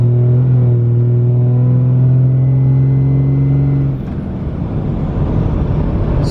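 A diesel truck fitted with 125 hp injectors accelerates under throttle, its engine drone loud and steady before the truck shifts and the sound turns into a rougher, broadband roar.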